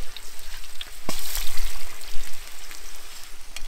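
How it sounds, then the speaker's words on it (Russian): Pepper frying in hot oil in a kazan, cooked for a nutria kazan kebab: a steady, dense sizzle and crackle runs throughout at close range, with a few louder pops and spits breaking through. "Обжариваем перец. Наша задача по максимуму ароматизировать масло и дать ему немножко остринки."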